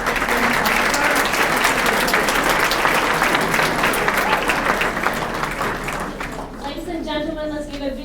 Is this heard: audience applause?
yes